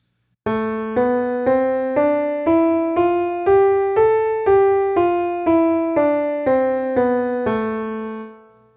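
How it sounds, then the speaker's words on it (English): A melodic instrument plays the A natural minor scale one note at a time, with about fifteen evenly spaced notes climbing and then descending, the final note ringing out. "So let's start with the A natural minor scale"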